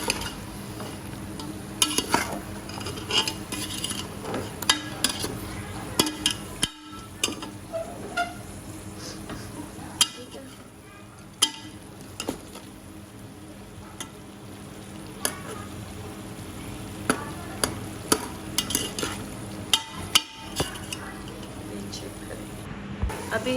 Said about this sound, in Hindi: अभी इसको जो है वो मैं काफ़ी टाइम से भून रही हूँ।